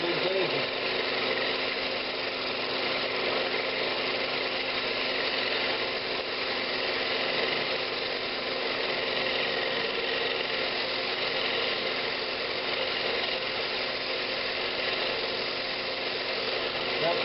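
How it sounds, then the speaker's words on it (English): Sandpaper wrapped over foam rubs the inside of a walnut hollow form spinning on a lathe, giving a steady, even hiss and whir that runs throughout at moderate level. "This is how I'm going to sand the inside."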